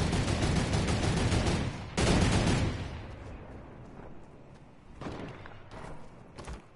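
Bursts of rapid SMG fire in a PS4 shooter game, loud sustained volleys with a short pause and then scattered shorter bursts, no talking over them.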